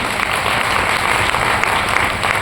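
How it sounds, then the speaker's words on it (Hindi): An audience bursts into steady, loud applause, dense clapping that fills the room evenly with no talk over it. "मैं चाहूंगा अगेन इन दोनों सरों के लिए एक बार जोरदार ताली"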